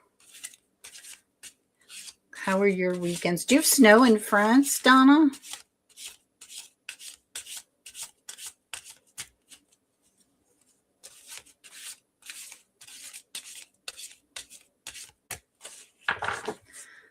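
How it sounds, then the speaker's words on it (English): A deck of tarot cards is shuffled by hand in repeated short, soft rubbing bursts with pauses in between, and a person speaks briefly partway through. "Going to do a little shuffle."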